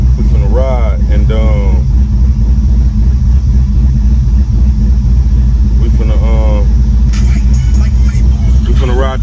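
A Box Chevy's engine rumbles in a loud, constant low drone while driving on a country road, with someone talking over it at intervals.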